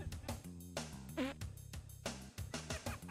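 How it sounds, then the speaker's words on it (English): Buzzy, cartoonish fart sound effects from the MS-DOS racing game Big Red Racing repeat in short bursts over droning, tonal game audio. "I don't understand the random fart noises, but apparently that's funny"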